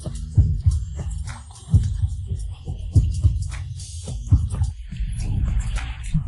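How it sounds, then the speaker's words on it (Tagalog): Fast heartbeat sound effect, loud repeated low thumps in a steady quick rhythm under a busy music and effects bed. "Bakit ang bilis ng tibok ng puso mo?"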